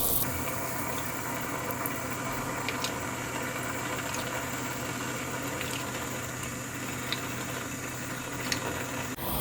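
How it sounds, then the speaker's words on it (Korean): Spicy Korean soft tofu stew with anchovy broth, vegetables and tofu bubbling in a pot, a steady soft simmering hiss with small pops, continuous and alone. "이제 순두부 국물이 끓어요"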